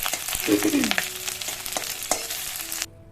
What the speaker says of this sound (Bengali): শুকনো লঙ্কা, তারপর দিয়ে দেবো পেঁয়াজ।